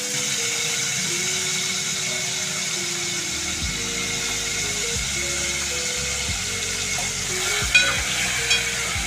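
Garlic and coriander fry in hot oil as a tempering for bombil tikhlavni, a steady loud sizzle running throughout with a faint hum underneath and no talk.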